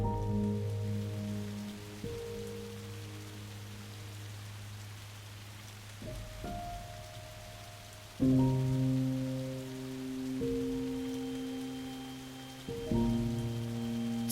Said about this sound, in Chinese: 是下雨了吗？